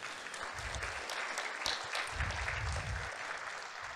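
An audience at a house naming ceremony claps continuously, a dense wash of applause at moderate distance that holds steady throughout.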